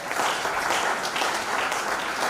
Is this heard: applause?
yes